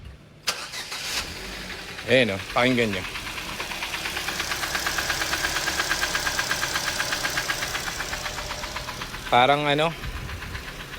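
A second-hand car engine cranks and catches, then idles with a loud, steady, rhythmic knocking like hammering from inside, close by, with someone talking over the start and again near the end.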